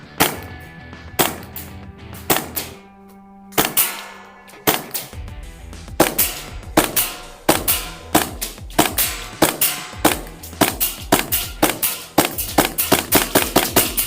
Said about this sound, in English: We'll snap it into the pistol, cock it, and let's have some fun.